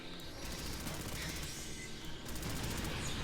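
Missile launcher blasts in the Aliens: Fireteam Elite video game, a dense continuous roar of rapid explosions and gunfire, loud and sustained throughout with no pause.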